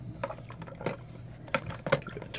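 GY6 180cc scooter engine part submerged and swirled in cleaning liquid during a top-end rebuild, producing soft sloshing and splashing pulses, close and quiet, with no talk.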